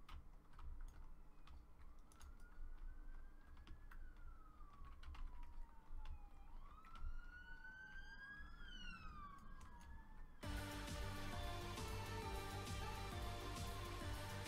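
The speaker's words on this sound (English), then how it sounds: "that siren didn't sound like it ended right in front of the house again" An emergency vehicle siren outside a house wails and sweeps up and down at a distance, faint under close rapid computer keyboard typing, then a loud burst of game music takes over.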